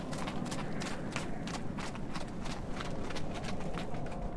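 A Mangalarga Marchador horse walks with a steady, close clip-clop of hooves, rhythmic repeated strikes over a constant outdoor background, no talking.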